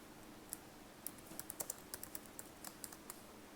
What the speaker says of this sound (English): I can start typing in